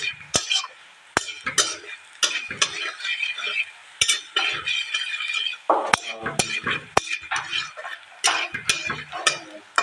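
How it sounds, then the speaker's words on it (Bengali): Ground turmeric and red chili powder frying in a pan in a village kitchen while a spoon stirs and scrapes, giving repeated sharp clinks over a soft sizzle, close up. "দিয়ে আর কিছুক্ষণ ভাজবো।"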